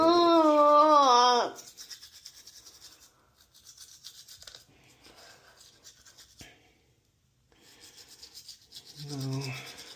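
A toothbrush scrubbing a young boy's teeth, a close steady rasping rub that runs through most of the stretch, with a voice briefly heard at the start and again near the end.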